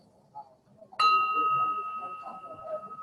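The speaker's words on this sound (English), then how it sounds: "Here comes the bell." A bell struck once to open a Rotary club meeting, a bright ring that sustains steadily for two seconds over quiet room murmur and faint talk.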